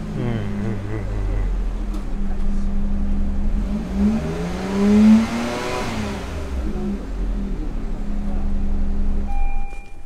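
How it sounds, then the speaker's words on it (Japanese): A custom lifted Daihatsu Taft with a road-legal aftermarket muffler idles, then revs up to a loud peak before settling back to a steady idle. Voices talk nearby. "エンジンかけます"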